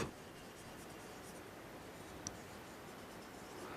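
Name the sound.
writing notes during a chemistry lecture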